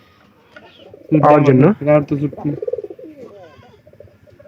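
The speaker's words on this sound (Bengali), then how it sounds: "আজকে হাট থেকে কবুতরটা কিনে নেওয়া হয়েছে।" A newly bought pigeon from a village market gives a few loud throaty coos close by, then softer calls trail off as a person speaks briefly nearby.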